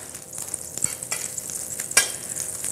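Butter sizzles quietly in a HealthCraft skillet, a soft, steady hiss with a few faint pops and one brief sharper crackle, close by and without talking.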